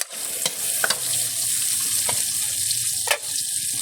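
Pork binagoongan ingredients are sautéed in a wok with a continuous close frying sizzle, broken by several sharp scraping clicks of a spatula against the pan; no one speaks.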